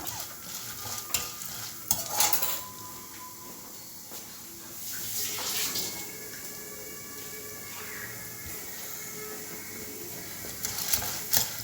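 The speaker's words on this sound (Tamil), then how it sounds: "முந்திரி போட்டுக்கோங்க. முந்திரி போடுறவங்களும் போட்டுக்கலாம், வேர்க்கடலை வேணும்னா வேர்க்கடலை போட்டுக்கலாம்." Cashews frying and being stirred in a pan of oil for tamarind rice, a steady soft sizzle with scraping stir strokes near 1, 2 and 5.5 seconds and again at the end, close and moderately loud with no talking.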